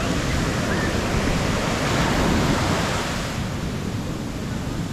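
Ocean waves surging onto Sand Beach, a steady broad wash of surf with a slight swell and easing toward the end, loud and close with no talking.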